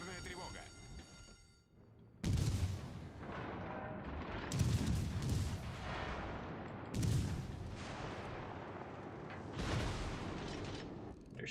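Naval guns fire in World of Warships Legends: a series of loud, booming salvos arrives every couple of seconds over a steady roar of background game noise, with no talking.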